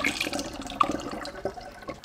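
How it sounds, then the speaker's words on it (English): Sugar-dissolved liquid pours into a glass demijohn for beetroot wine, a soft splashing, gurgling flow with a few small clinks, close and fairly quiet. "topped the demijohn up with the liquid with the dissolved sugar in it"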